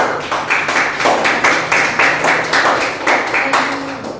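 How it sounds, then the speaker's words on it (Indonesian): A small group of students in a classroom claps in a loose, rhythmic pattern, each beat sharp and close, steady for a few seconds. "beri tepuk tangan untuk kelompok 1"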